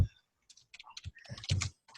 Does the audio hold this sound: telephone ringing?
no